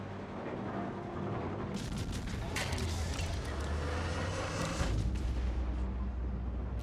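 Naval gun salvos from the cruiser Almirante Grau in a video game, heavy booming blasts over a steady engine-like rumble, with a strong report near the middle and a voice talking under the noise.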